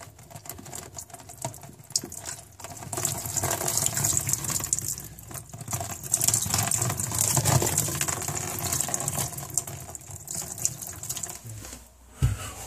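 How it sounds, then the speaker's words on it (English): Water spills and patters steadily from the opened plastic filter housing of a Rheem tankless water heater, a continuous splashy trickle with occasional clicks of handling, close and moderately loud. "there's some water that's running out of it."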